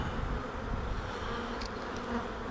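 A cluster of honey bees hums steadily at a hive, a dense continuous buzz at moderate level, with no talking.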